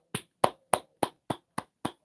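One person claps seven times at a steady, unhurried pace, each crisp clap close and fairly quiet, with silence between them.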